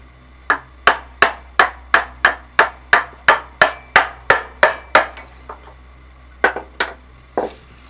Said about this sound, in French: un coup de ciseau bien placé